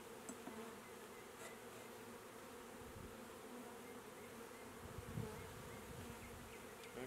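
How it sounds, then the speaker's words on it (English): Steady, dense buzzing of many bees swarming close by, a continuous drone with a few louder insects passing near. "Lots of bees on here"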